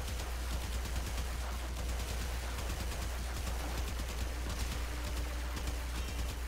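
Rapid gunfire in the video game Warframe, dense continuous bursts of shots layered over a steady low rumble, loud and unbroken with no talk.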